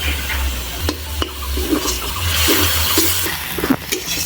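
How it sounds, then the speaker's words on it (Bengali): Tomato paste sautéing with ginger, garlic and onion in a pan, a continuous sizzle broken by scrapes and taps of a spoon against the pan, fairly loud and close. "এবার টমেটোটা খুব ভালো করে কষিয়ে নেবো যতক্ষণ না তেল ছেড়ে দিচ্ছে"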